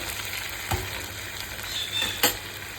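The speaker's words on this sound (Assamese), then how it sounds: "ভাজিব লাগিব এতিয়া ভাজি থাকিব লাগিব তেলটো ফুটক" Masala and prawns fry in bubbling oil for creamy chilli prawns, with a close, continuous sizzle and a couple of brief stirring scrapes, no talking.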